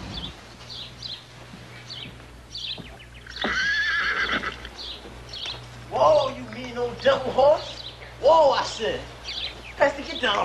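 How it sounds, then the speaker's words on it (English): A horse neighs and whinnies in several bursts, fairly close, with hoof clip-clop and faint birdsong in the background; no talking over it. "Whoa, Pesty, tell that horse to hold it."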